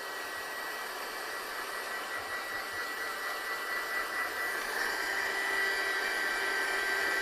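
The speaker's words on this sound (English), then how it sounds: "I'm just going to dry this one off first" A heat dryer blows a steady, even rush of air while drying a watercolour card, moderately loud and close, slightly intensifying toward the end, with no voices.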